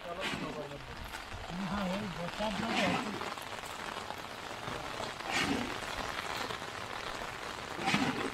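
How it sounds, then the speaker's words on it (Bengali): Rain falls steadily on a boat moving through dense Sundarban mangroves by a river during the monsoon, a constant hiss with a few louder patters, while voices talk over it. "বৃষ্টি হচ্ছে"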